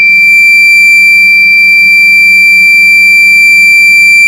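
A heat sensor project with a buzzer sounds a steady, loud, unbroken high-pitched electronic beep tone for the whole stretch as a lit match is held near it, with no talking.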